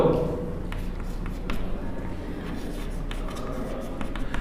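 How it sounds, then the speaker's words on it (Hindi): Soft pen or chalk writing out a definition during a physics lesson, a faint continuous scratching and rubbing under low room noise, with faint traces of speech. "लिखते हैं परिभाषा"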